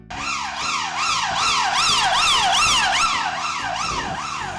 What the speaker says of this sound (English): I bet you've seen a police car before. With bright flashing lights and a noisy siren.